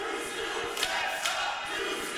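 A wrestling crowd at London Comic Con roars steadily throughout, a dense wash of cheering and shouting with a few louder bursts, heard from within the arena.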